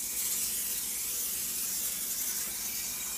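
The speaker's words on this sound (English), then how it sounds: "get your Pam and spray the inside" A close, steady hiss of Pam cooking spray from an aerosol can sprayed inside a pan lasts about three seconds.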